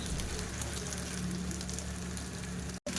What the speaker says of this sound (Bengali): পনিরটাকে ফ্রাই করতে বসিয়েছে